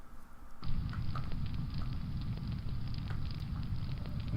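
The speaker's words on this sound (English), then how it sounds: "The fire crackles warmly." A video game campfire crackles warmly in a steady, dense bed of soft pops and snaps, holding an even level throughout after starting a moment in, with no voices over it.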